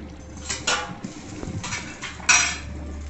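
A few ceramic and metal clinks as a plate is set down over a pan of mushroom gravy, with a sharper clatter near the end, no one talking.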